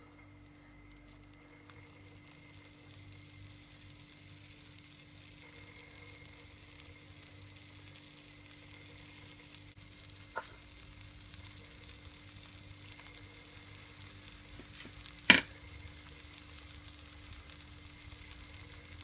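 Cheddar cheese and bacon fry in a pan for a sandwich, making a faint, steady sizzle with low background hum and a couple of soft clicks. No one talks.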